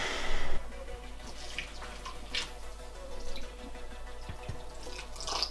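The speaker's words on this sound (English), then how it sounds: "Don't soak Clara, man." Water splashes and drips into a tarantula enclosure in short spurts, close and fairly loud, with a burst at the start and scattered drops after.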